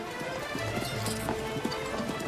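Hooves of cavalry horses clip-clopping as mounted soldiers set off, a steady run of hoof strikes over a dense wash of background noise, like a rainy outdoor scene.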